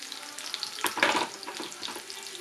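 Shallots and curry leaves crackle and sizzle in hot oil for pineapple pachadi, a steady near frying hiss that swells with a louder burst as the leaves hit the pan, with no voices.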